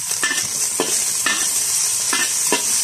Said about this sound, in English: Okay, so that's nice and sizzly now.